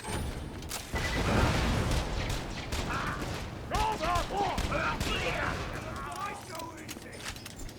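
Grenade blasts and gunfire in the video game Borderlands 2: a burst of booming explosions and rapid shots, with a character voice calling out over the combat.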